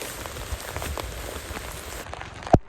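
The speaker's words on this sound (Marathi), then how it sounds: "तर पावसाला लय बेकार लागतोय." Steady heavy monsoon rain pours down beside an overflowing river, a dense wash of drops hitting surfaces, with one sharp knock near the end.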